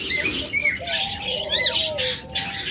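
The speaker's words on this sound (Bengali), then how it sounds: "প্রথমে আজকে এক জোড়া লাভবার্ড দিয়ে শুরু করতেছি।" A pair of red-eyed lovebirds, a breeding master pair, give sharp repeated squawks and chirps close by, overlapping calls with some wing movement in the background.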